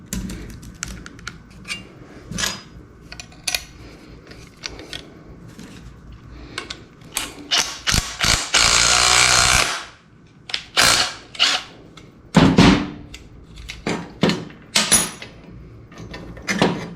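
A Makita 3/8 impact driver tightens down a 3D-printed dimple die for 16 gauge steel, firing in short rattling bursts with one long hammering run in the middle, close and loud between quieter clicks.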